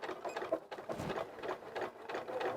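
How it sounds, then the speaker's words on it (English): A sewing machine stitches cotton stretch fabric with a twin needle, starting with a short back stitch: a rapid rhythmic mechanical whir in repeated bursts, close and fairly loud. "I will start I'll do a little back stitch"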